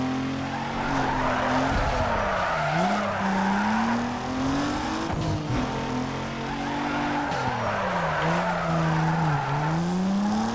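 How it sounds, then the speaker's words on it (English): Engine of a drifting car in Need For Speed Underground 2, revving up and down with a continuous tire squeal, loud and steady throughout without speech. "Lost that drift."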